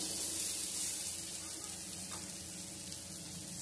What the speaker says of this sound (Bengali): পেঁয়াজ আর টমেটোটা নরম হয়ে গেছে, এবার আমি বেটে রাখা মশলাটার মধ্যে দিয়ে দেব।